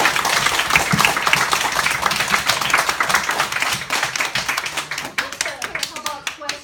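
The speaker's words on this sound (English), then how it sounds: "let's give her a big round of applause" Audience applause for a presentation about a barn owl, dense clapping from a crowd sustained throughout, loud and close, thinning toward the end.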